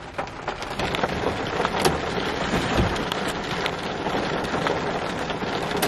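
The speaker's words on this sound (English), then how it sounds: "as you can probably hear, it's raining" Heavy rain pours outside, a dense, continuous hiss of drops hitting surfaces with scattered louder patters, steady and fairly close throughout, with no voices.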